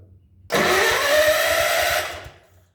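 John Deere engine catching after being choked, its carburetor in need of cleaning; a sudden loud start that runs steadily for about a second and a half before cutting off, with faint low knocking before and under it.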